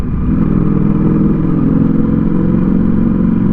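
A Ducati V4S Speciale motorcycle engine drones loud and close with a steady, throbbing mid-pitched roar, sustained at constant revs while riding through a village, its sound reflecting off nearby walls and houses.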